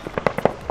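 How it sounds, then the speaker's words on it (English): Fireworks burst over Glasgow Green on Bonfire Night, a quick run of about six sharp cracks and pops at moderate distance, fairly faint. "Glasgow Green is setting up their fireworks tonight."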